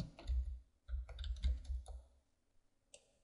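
Typing on a computer keyboard, a close, quiet burst of rapid key clicks in quick clusters, then a pause and a final lone click.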